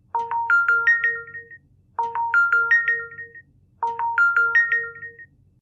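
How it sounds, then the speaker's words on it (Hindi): A phone ringtone plays three times, each burst a quick rising run of bright electronic tones followed by a short gap. The ringing is loud and clear against near silence. "मैं जरा फोन सुन लूं"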